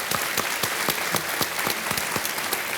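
A studio audience on a television quiz show claps steadily, crisp individual claps over a dense wash of applause, with no talking.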